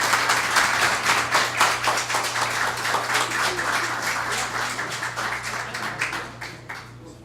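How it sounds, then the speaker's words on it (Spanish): Audience applause for Doctor Mendoza after a lecture at the Universidad de San Martín de Porres in Peru, a steady wash of many clapping hands lasting several seconds before thinning out at the end. "Si nos acompañan con un aplauso,"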